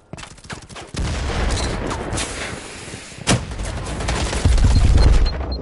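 Rapid gunfire bursts in the VR shooter Firewall Zero Hour on PS4 Pro, dense continuous volleys with a sharp louder crack midway and heavier firing near the end, close and loud.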